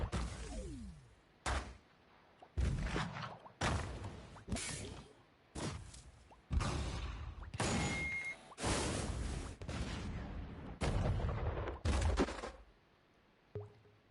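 A run of dramatic explosion sound effects chosen from a game editor's effects library, about ten loud separate bursts each followed by a short silence, with no talk.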